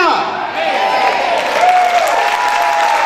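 Congregation clapping at an evangelical church service in Lagunilla, a dense steady wash of many hands that swells after a brief dip, with a voice ringing over it.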